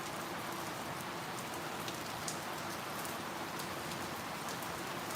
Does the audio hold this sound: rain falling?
yes